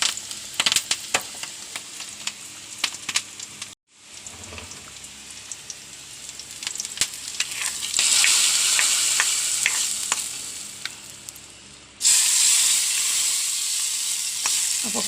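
Sliced onion and curry leaves fry in hot oil in a pan, a continuous sizzle punctuated by stirring clicks, briefly cutting out, then swelling to a louder, brighter hiss near the end.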